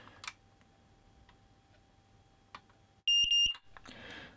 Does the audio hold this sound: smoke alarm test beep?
yes